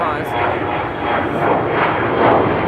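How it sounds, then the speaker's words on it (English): A KLM Embraer 175 jet airliner at Amsterdam Schiphol Airport makes a steady, loud broadband roar that swells slightly and holds throughout. "Embraer from KLM 175"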